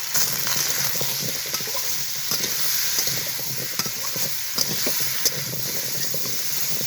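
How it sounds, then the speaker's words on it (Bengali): Pumpkin pieces sautéing with a ground paste of turmeric, ginger and cumin in a pan, giving a steady close sizzle with frequent scrapes and stirring clicks throughout, no talking. "এই কুমড়োটাকে সব কিছু মশলার সঙ্গে আগে খুব ভালোভাবে কষিয়ে নিতে হবে"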